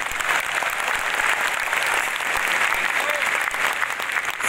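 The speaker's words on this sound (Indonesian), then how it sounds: "kenapa tidak tepuk tangan?" Dense, steady clapping from a large audience fills the room, loud and continuous throughout.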